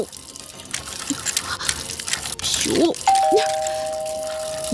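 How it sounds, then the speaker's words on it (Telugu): A leaking tap runs water into a sink as a steady, close wash of sound, and a doorbell chime rings over it near the end, with no talking. "నువ్వు ఫోన్ చేసినప్పటి నుంచి ఆ ట్యాప్ కారుతూనే ఉంది"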